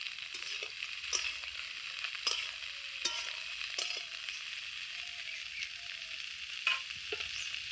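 Cauliflower pieces fry gently in a pan over low heat, making a soft, steady sizzle broken by a few sharp clicks and scrapes of stirring.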